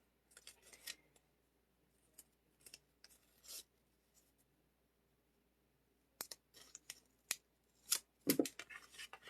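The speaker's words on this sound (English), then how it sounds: "all right, scissors." Scissors snipping paper for a handmade card layout, close and crisp, in short irregular bursts of cuts separated by quiet pauses, with soft rustling of paper and no talking.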